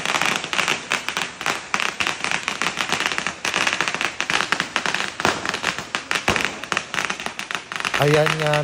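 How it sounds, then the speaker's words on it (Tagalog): Firecrackers burst in a dense, continuous crackling barrage at the Awana temple in Genting, loud and close, with voices faintly underneath and a brief tonal sound near the end. "merong eksena rito na paputok"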